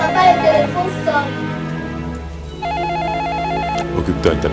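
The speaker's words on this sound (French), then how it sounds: "le téléphone sonne" A telephone rings indoors, a loud repeating electronic trill that starts partway through and continues, with voices talking over and around it.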